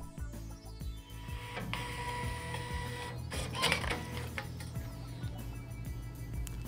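A Zebra ZT411/ZT421 industrial label printer runs its auto calibration, feeding label media with steady mechanical whirring and stepping motor pulses, fairly close and continuous with no talk.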